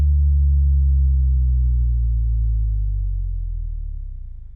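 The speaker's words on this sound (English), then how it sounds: "let's listen to that spinner with the EQ on and off to hear what it sounds like" Fidget spinner spinning, shaped into a low bass tone with EQ switched on and off: a steady, loud low hum with a few stacked harmonics that slowly fades over several seconds, with no talking.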